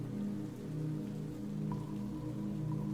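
Rain falls steadily at night in Brighton, a continuous soft wash of drops on surfaces with a low hum beneath, even and unbroken with no voices.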